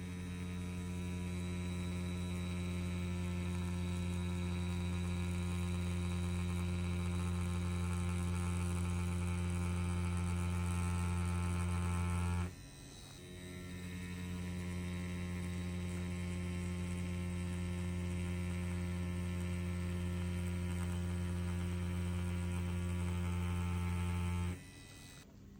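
An EZ P6 tattoo machine set to a 4.2 mm stroke runs with a steady, loud electric hum, cutting out briefly midway and resuming before stopping near the end.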